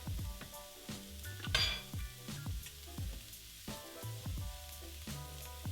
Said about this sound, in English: We don't want to fry the cilantro too much because the heat diminishes its flavor.